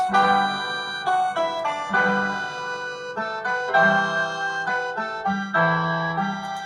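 A slow, sustained harmonica melody with steady held notes and soft chordal tones underneath, clear and close.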